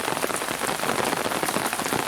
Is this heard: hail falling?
yes